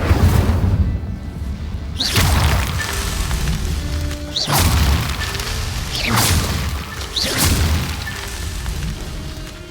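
The Incendio fire spell from Hogwarts Legacy is cast repeatedly, with four loud whooshing bursts of flame arriving roughly every two seconds, each followed by a crackling, booming tail.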